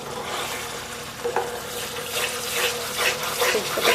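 Masala with bay leaf frying in oil for paneer masala, a steady hissing sizzle with occasional scrapes of stirring, close and continuous without talk.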